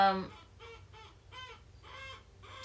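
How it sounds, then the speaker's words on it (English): A chicken clucks outdoors after rain, a series of short, separate clucks about every half second, fairly faint and some distance away, with no talk over them. "you hear that chicken?"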